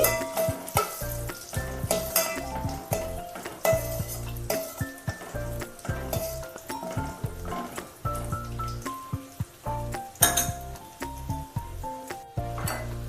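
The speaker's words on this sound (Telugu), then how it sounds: "కిస్మిస్ వేయించి తీసుకుందామండి. ఇవి 2 దోరగా వేయించుకుని తీసి పక్కన పెట్టుకోవాలండి." Raisins and cashews frying in ghee in a small pan for semiya payasam, a continuous close sizzle with frequent spoon stirs and scrapes against the metal.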